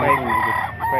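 A rooster crows loudly and close by at a busy chicken market, one sustained call filling the whole moment.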